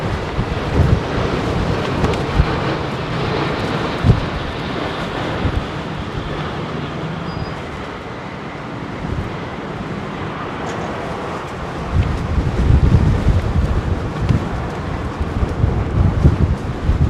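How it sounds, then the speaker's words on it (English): Strong wind buffets the microphone at London Heathrow Airport in a steady rough roar. Heavier gusts surge at the end, and no one speaks. "Strong headwind, man."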